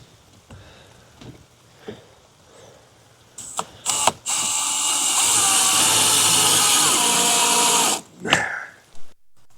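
A power driver sinks screws into a DECKED drawer system in the bed of a 2025 Ford F350, with a few taps and clicks, then one sustained whining run of about four seconds and a brief final burst.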